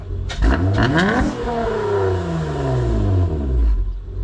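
A car engine revs up hard with a deep, raspy exhaust roar, rising then settling into a loud, rumbling idle-like drone, close by.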